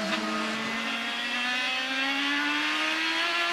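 An IndyCar race car engine accelerating out of a corner on the Honda Indy 200 road course, a loud, high-pitched continuous whine steadily climbing in pitch with no pause.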